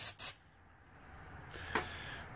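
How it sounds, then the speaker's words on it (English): Starter fluid is sprayed from a can into a motorcycle's air filter and carburetor, giving two short, sharp hissing bursts at the start, followed by a quiet stretch and a faint brief hiss later. "I'm going to spray a little bit of starter fluid here into"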